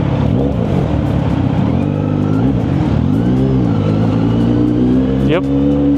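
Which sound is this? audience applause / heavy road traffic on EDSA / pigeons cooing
heavy road traffic on EDSA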